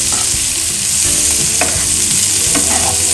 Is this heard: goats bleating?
no